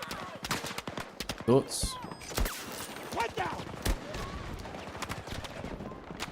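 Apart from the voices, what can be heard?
GW46 gunfire from Battlefield video game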